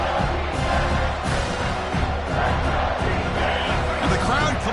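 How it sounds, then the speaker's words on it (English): A dense stadium crowd roars at an American football game as the defense holds in the red zone, a loud continuous wash of cheering and shouting with commentary voices mixed in. "And the crowd coming to life here, trying to help this defense down in the red zone."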